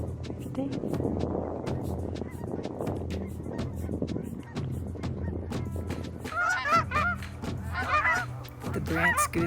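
Geese honking at a park among many ducks, repeated nasal honks growing louder and more frequent toward the end over a low wind-like rumble, with a person talking quietly underneath.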